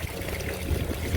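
Water trickling and dribbling from a garden pond pump during pond cleanout, a steady soft splashing flow close by that runs continuously through the moment.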